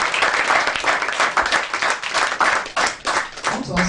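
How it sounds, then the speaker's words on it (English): Loud, dense clapping from a summit audience honoring a mother, a full room applauding with swelling and dipping intensity, close and continuous. "Can we give mommy a round of applause for today?"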